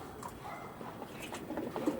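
Broad-bodied pigeons coo softly and continuously, low rolling calls with faint higher chirps over a quiet loft background.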